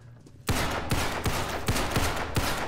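Rapid pistol gunshots from an M1911 in the Roblox-style game Criminality, five or six loud sharp reports fired at a steady pace after a brief quiet lead-in, each with a short ringing tail.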